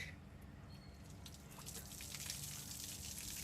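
Cold water is poured from a tub over someone bathing, heard as a low, steady gushing splash close by that swells slightly, with no talking.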